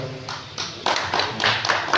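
Short burst of audience applause at a gathering in Sakleshpur, a few scattered claps building into denser clapping, close and fairly loud.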